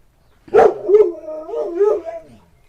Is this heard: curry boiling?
no